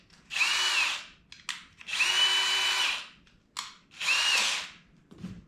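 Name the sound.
power drill with 3/8 inch drill bit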